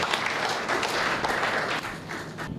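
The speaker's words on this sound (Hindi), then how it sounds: "जोरदार तालियां बजा कर स्वागत।" Enthusiastic audience applause at a Hindi poetry gathering welcoming a poet, a brief burst of dense clapping that thins slightly toward the end.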